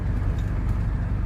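A 1993 Ford F250 pickup drives along on a test drive after sitting unused for over a week, its engine and road noise forming a steady low rumble up close.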